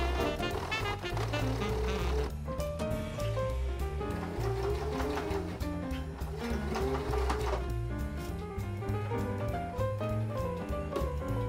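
A sewing machine stitches fabric bunting flags, its rapid mechanical needle chatter running continuously and close, with brief pauses and changes in speed.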